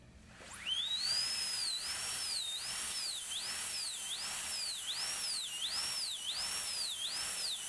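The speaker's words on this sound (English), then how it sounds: "And now here's the third burr from Comet USA zirconium cutter." A Comet USA zirconia cutter burr in a high-speed dental handpiece cuts a zirconia crown. A loud, thin whine spins up, then dips and recovers in pitch over and over as the burr bites the material.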